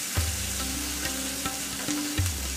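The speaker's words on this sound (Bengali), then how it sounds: "সেইগুলো চিপে পেঁয়াজের মধ্যে দেওয়া হলো" Lemon-marinated chicken pieces fry with onions in a pan over medium-high flame, a steady close sizzle with a few soft stirring knocks.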